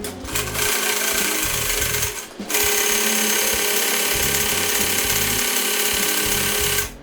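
A JUKI LZ-2284A industrial zigzag sewing machine stitches a test seam, giving a close, loud, steady mechanical chatter with a rapid rhythmic needle beat that pauses briefly after about two seconds, then runs on evenly.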